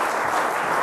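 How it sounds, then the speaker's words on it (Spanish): A seminar audience gives a warm welcoming applause for a speaker: a brief, steady wash of many hands clapping at moderate loudness, with no talk over it. "espero que lo recibamos también con un caluroso aplauso"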